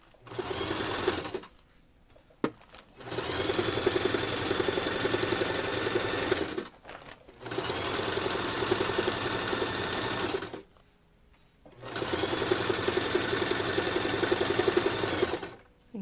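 A sewing machine stitches a baby changing mat in three long steady runs of rapid humming needle strokes, with short pauses between them where the fabric is turned, close and loud.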